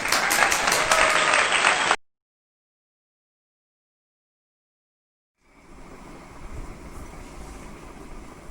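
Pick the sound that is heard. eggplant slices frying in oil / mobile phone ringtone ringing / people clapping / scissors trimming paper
people clapping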